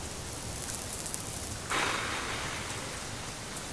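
Steady rain falling, a dense even hiss of drops on surfaces that swells slightly louder partway through, fairly faint and continuous with no voices.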